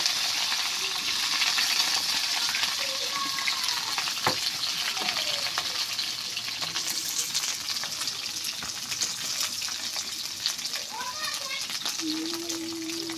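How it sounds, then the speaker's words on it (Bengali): Bitter gourd fries in hot oil in a wok with a steady, dense sizzle and occasional stirring scrapes, under intermittent faint voices. "তেল আমার তাতে গেছে দেখুন করলাগুলো আগে একটু আমি ভাজে নেব"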